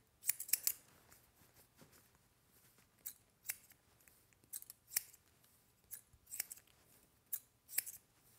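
Scissors snipping hair during a classic fade haircut, in quick irregular clusters of crisp close cuts over a quiet room.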